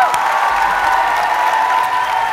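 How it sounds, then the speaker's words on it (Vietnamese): A studio audience on a televised puzzle competition show claps for a woman contestant, a loud, dense and even burst of applause that fills the whole short stretch. "vẫn cho người phụ nữ này một tràng pháo tay nồng nhiệt thưa quý vị"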